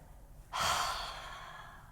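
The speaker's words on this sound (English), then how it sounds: "One more last deep breath in, and let it go." A single deep, slow exhale of breath during a yoga session, soft and close, starting abruptly and fading gradually.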